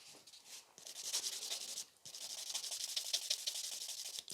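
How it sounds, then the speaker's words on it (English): A grey 100/180 grit buffer rubs across a fingernail in quick, close, scratchy back-and-forth strokes, two bursts separated by a short pause, with no talk. "Okay, buff this one."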